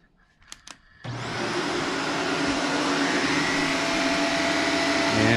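A Shark APEX Duo Clean Zero M vacuum cleaner switches on after a second of quiet handling noise, its motor jumping straight to a loud, steady, broadband roar that holds close and continuous to the end.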